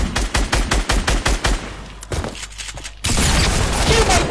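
Rapid gunfire from Fortnite, a dense run of sharp shots in quick bursts that thins out briefly, then a loud sustained burst of noise at the end.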